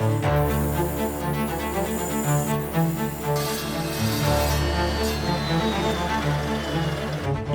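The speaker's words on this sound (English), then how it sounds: "buying yourself a nice cold cut saw like the one I'm using here" A cold cut saw slices through metal stock for a welding table, giving a steady, loud whining drone with a grinding edge that runs without a break from start to finish.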